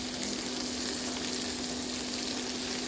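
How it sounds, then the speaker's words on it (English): Sliced celery and zucchini frying in a cooking machine while being stirred, a loud, constant crackling sizzle close up with a steady low hum underneath and no speech. "fry them for about a minute and keep on mixing it"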